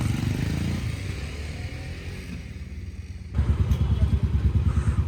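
Several motorbikes on a weekend road trip to Chakrata rumble and rev as riders pull away, a steady engine drone that swells into a louder, throbbing roar near the end.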